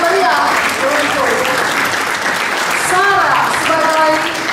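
Warm applause from a church audience for the cast of a Christmas drama, sustained crowd clapping at full volume while an announcer speaks over it in short bursts.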